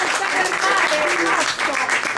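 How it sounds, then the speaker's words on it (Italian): An audience applauds Bruno Mancini at an award ceremony, with loud, dense clapping that runs continuously and close by, with some murmuring voices mixed in. "vorrei farvi fare un applauso a Bruno Mancini"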